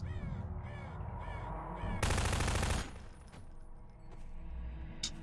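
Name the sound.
crow NPCs cawing in Half-Life 2 video game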